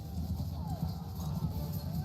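Cavalry horses gallop across a battlefield in Mount & Blade II: Bannerlord, a dense, continuous rumble of hoofbeats in the mid-distance, with talk running over it.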